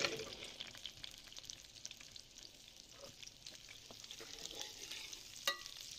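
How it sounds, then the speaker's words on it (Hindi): Okra fries in hot ghee in a kadhai, a faint, steady low sizzle with light stirring and a brief clink near the end, with no voices. "घी गर्म हो गया है तो सबसे पहले भिंडी फ्राई करते हैं"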